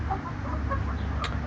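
Chickens in a backyard coop with nesting boxes give soft, scattered clucks over a steady low hum, with one brief higher squawk near the end; fairly close and moderate in level.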